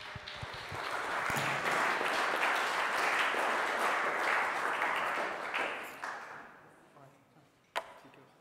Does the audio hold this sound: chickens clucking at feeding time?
no